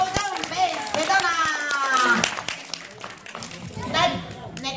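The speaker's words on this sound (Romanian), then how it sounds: "Hai să aplaudăm pe Sedona!" Audience applause for a young girl, Sedona, at a children's talent show, a bright patter of clapping running throughout with children's and adults' voices talking over it.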